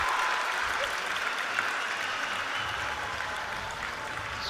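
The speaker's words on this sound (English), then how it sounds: "the crowd is going wild" A large arena crowd cheers and applauds after a women's gymnastics floor routine at a Maryland versus Ohio State meet, a dense continuous roar of clapping and shouts that holds steady throughout, fairly distant.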